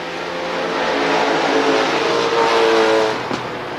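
NASCAR late model stock cars race at Rockford Speedway, a loud massed engine roar swelling as the pack passes close by, then fading toward the end.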